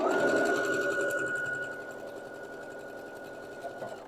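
A sewing machine stitches a quarter-inch seam on a nine-patch quilt block, its steady mechanical whir running loud and close, then easing a little softer toward the end.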